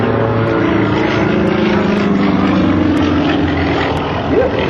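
Sukhoi SU-31 aerobatic plane flying inside rolls at the 2006 Willow Grove Air Fest, a loud continuous propeller-engine drone with a steady pitch and a slight upward sweep near the end.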